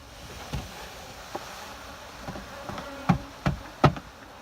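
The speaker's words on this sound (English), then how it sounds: "I got a bin full of bees here that are mad at me" Angry bees in a bin buzz faintly in the background, with a few sharper knocks and thuds near the end, and no voices.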